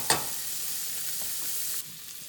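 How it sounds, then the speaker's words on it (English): Green peas and chopped vegetables for poha sizzle steadily in a pan while a spoon stirs them, with a brief scrape at the start and the frying hiss continuing loud and close. "I'm adding a pinch of salt to these veggies and going to give it a mix"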